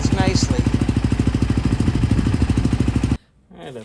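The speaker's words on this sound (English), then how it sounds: "idles nicely." A Honda XR250L motorcycle engine idles close by with a steady, even thumping pulse for about three seconds, then cuts off abruptly and a short voice follows.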